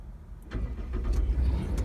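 A car engine cranks and catches, then settles into a steady idle, heard close up inside the vehicle before a drive through Toronto.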